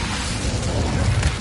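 A fiery Incendio spell cast in Hogwarts Legacy, a broad roaring whoosh of flame that holds steady and loud for the whole moment with no talk.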